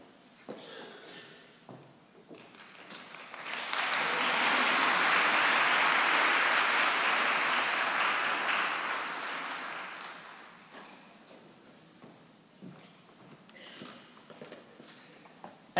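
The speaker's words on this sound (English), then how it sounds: "Spontaneous applause came through as well there, which is very good." Spontaneous applause breaks out during a university graduation ceremony rehearsal, a dense crowd of clapping that swells, holds loudly for several seconds and fades, with scattered footsteps and room noise before and after.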